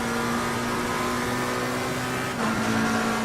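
A race car engine from the sim racing game Assetto Corsa Competizione at Silverstone drones steadily, a sustained tonal whine with a small rise near the end, heard alone without speech.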